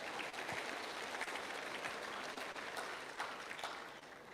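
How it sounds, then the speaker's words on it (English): An audience at a live event in Durban applauds itself, sustained crowd clapping at an even level with a few sharper individual claps standing out. "We'd like you to give yourselves a round of applause"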